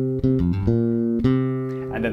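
Bass guitar playing the first half of a minor pentatonic riff, a short sequence of distinct plucked notes in a steady rhythm, close and clear with no talking.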